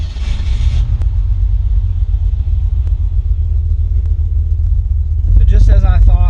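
A 1968 Ford Mustang that had been flooding: a loud, steady low engine rumble runs throughout and swells slightly near the end, with a brief high whine in the opening second and a voice speaking over the last moments.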